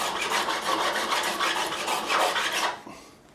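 Metal file rasping across the frets of a Yamaha FG335 acoustic guitar to reshape them, rapid repeated back-and-forth strokes, close and crisp, stopping abruptly near the end.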